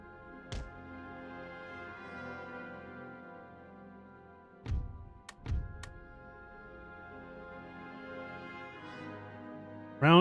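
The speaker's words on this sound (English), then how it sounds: "Field artillery is engaging them now." Field artillery fires in the game Empire Total War (Empire 2 mod), as a few dull, distant booms spaced apart over a sustained musical backdrop.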